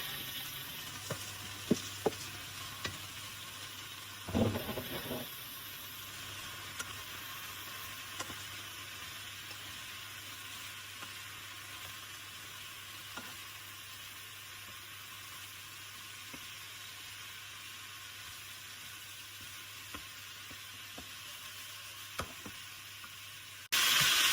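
Chopped onion and vegetables sizzle steadily in a hot pan, a soft, continuous frying hiss with occasional light clicks and a brief stirring scrape, heard without talk.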